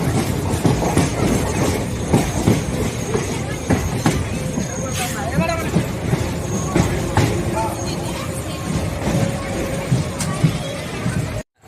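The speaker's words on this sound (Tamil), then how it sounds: "இப்ப நம்ம திண்டிவனம் ரயில் நிலையத்தை நெருங்கி விட்டோம், உள்ள என்டர் பண்ணிட்டோம்." Train rolling into Tindivanam railway station, wheels clattering rhythmically over the rails with occasional metallic clanks and squeals, heard from on board under ongoing talk.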